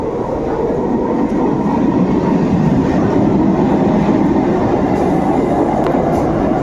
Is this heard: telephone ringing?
no